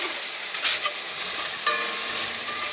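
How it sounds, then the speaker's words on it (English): Broccoli sizzling in a pan in a small Airstream kitchen, with a steady hiss of frying and a few clinks and scrapes as it is stirred, close and fairly quiet, no talking. "So let's get this broccoli stirred."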